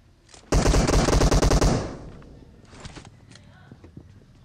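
Rapid automatic gunfire in PUBG Mobile, a loud sustained burst of close shots lasting about a second, then fading into quieter scattered shots and footstep-like clatter.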